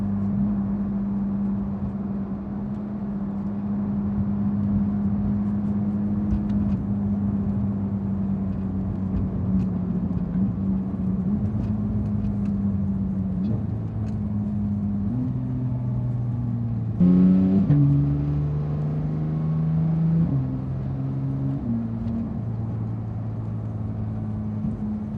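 A Porsche GT3 cruises through a neighborhood, its loud engine droning steadily inside the cabin, with audible gear changes and rising and falling revs, plus a brief burst of extra noise midway.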